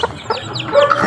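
A young hen, a good brooding mother hen, clucks in short repeated calls close by, with several soft fowl vocalizations spread through the moment.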